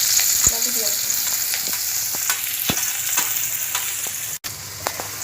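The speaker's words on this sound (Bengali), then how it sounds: "তেল আমার গরম হয়ে গেছে এইবার আমি দিয়ে দেব পেঁয়াজ কুচি" Chopped onions hitting hot oil in a pan and frying, a loud, steady hiss of sizzling throughout, punctuated by sharp ticks and scrapes of a utensil stirring, close up and with no talking.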